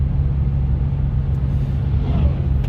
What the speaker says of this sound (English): Shift pattern's a little off when you have your foot to the floor